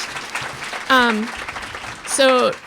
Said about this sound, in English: I just want to give the panel a quick round of applause.